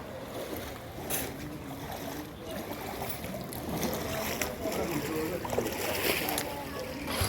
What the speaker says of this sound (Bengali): এই অবস্থায় নৌকা চলছে